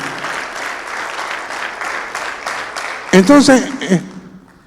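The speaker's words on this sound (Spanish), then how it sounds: "dale un aplauso a Cristo" A church congregation claps steadily for several seconds, with a sung or shouted voice rising over the applause near the end before it fades.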